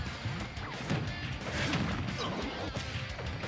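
Forward smash attacks in Super Smash Bros. Ultimate, heard as a dense run of sharp crashing and whacking hits over busy game sound for several seconds, with no clear speech.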